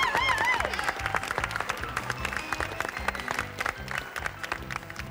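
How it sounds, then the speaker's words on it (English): Audience applause in a stage magic show setting, a steady wash of clapping that fades slightly over about five seconds while music plays underneath. "Give him a big round of applause, ladies and gentlemen."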